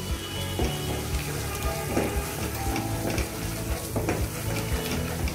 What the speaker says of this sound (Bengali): তারপর আবার ভালোভাবে কষিয়ে নিচ্ছি।